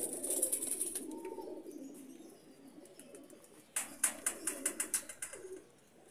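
A Sabz Cheena pigeon coos in a breeder's loft, low soft murmurs running underneath, then a burst of sharp rhythmic sounds near the end with high chirps above.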